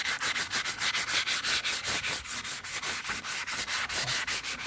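Hand sanding on rattle-can painted metal of a 1978 truck, a fast, regular back-and-forth scratchy rasp with even strokes, close and continuous with no talk.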